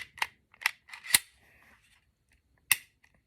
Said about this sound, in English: side locks back.